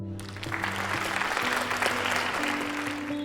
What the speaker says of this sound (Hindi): बरामदा तालियों से गूंज उठा।